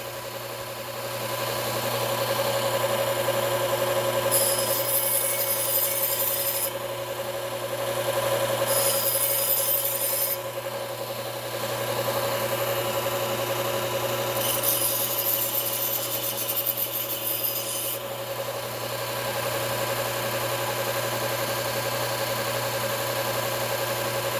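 A Cuisinart kitchen knife is sharpened on a running belt grinder: a steady motor drone sits under it, and a bright abrasive hiss comes in at three separate passes of the blade against the belt.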